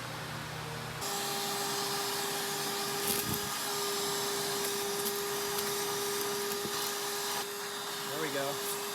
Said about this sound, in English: I got the fan blowing behind me